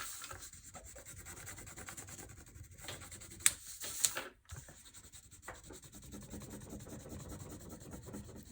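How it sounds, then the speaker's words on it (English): Colored crayon or pencil rubbed over a textured surface for an art project makes steady, close, scratchy back-and-forth strokes, quiet and alone, with a couple of brief knocks midway. "Love doing the rubbing here."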